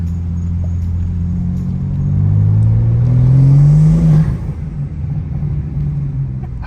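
A manual BMW G80 M3 fitted with titanium front-mount intakes accelerates at full power, its engine note rising in a loud, close, climbing pull before easing off to a lower rumble.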